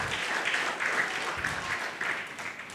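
Congregation applauding during an online church worship service, a steady wash of clapping that swells and dips slightly over a few seconds, with no voices on top.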